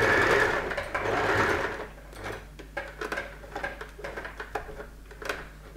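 A home sewing machine runs a long straight stitch along a kimono robe seam: a steady, close whirring for about two seconds, then lighter, intermittent ticks and clatters as the stitching slows and stops.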